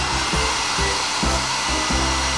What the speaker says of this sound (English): Super Sneaker dryer ready